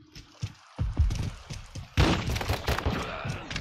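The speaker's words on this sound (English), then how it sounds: "That was the fastest shotgun shot you've seen this side of the Mississippi." Shotgun blasts in a video game, with a handful of punchy thumps early on and then one sharp, louder shot followed by a ringing rattle.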